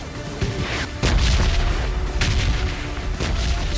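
A grenade explosion in PUBG Lite, a loud booming blast with rumbling low-end and further bursts of gunfire and impacts around it, no talking.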